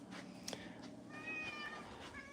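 A cat meows a few times, close and fairly quiet, with short high cries and no talking over them.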